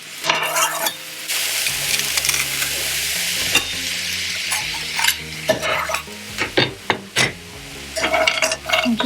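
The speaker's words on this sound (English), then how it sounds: "And just give that a good stir round, and then just fry that for about another 5 minutes." Mince with chopped red pepper and garlic sizzles in a frying pan while a spoon stirs and scrapes through it in bursts, a continuous hiss close by with occasional clacks, no voices.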